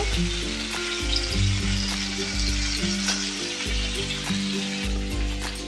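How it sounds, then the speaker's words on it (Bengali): Ground spice paste for chicken potol dorma fries loudly in a hot pan, a dense continuous sizzle with stirring scrapes, heard close up over soft background music. "এবার আমি যে মশলাটা বেটেছিলাম সেই মশলা বাটাটা আমি দিয়ে দেবো দিয়ে খুব ভালো করে এবারে মশলাটাকে কষিয়ে নেব"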